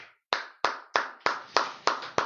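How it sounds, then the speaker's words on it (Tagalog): Seven sharp, evenly spaced claps about a third of a second apart, close and loud with quick decays, standing alone after a brief silence, given in a church worship service. "Isang malakas na palakpak!"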